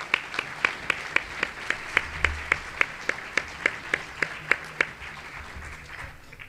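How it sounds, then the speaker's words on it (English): Clapping for mayoral candidates at a Bellingham City Club forum comes as sparse, evenly spaced claps, almost metronomic, that stop about five seconds in and leave a quiet room. "welcome to clap for your favorites"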